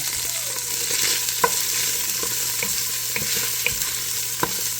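Ground pork fries in a pan, giving a continuous close sizzle with scattered small pops and scraping ticks of stirring throughout, and no voices.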